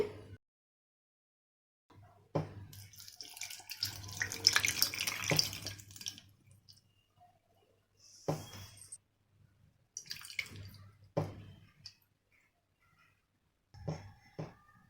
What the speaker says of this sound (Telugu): ఇప్పుడు ఇది ములిగే వరకు వాటర్ పోసుకోవాలండి.